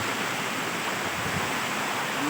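Water rushes at Epol Falls waterfall, a steady broadband roar that stays even and close from start to finish, with nothing else audible over it.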